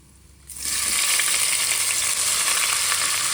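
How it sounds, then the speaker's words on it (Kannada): Chopped onion goes into hot oil already tempered with black pepper and kasuri methi for a vegetable pulav, setting off a sudden loud, steady sizzle that continues close and unbroken after a brief quiet start. "ಈಗ ನೋಡಿ, ಕಟ್ ಮಾಡ್ಕೊಂಡಿರೋ ಆನಿಯನ್ ಹಾಕ್ಕೊಳ್ತಾ ಇದ್ದೀನಿ."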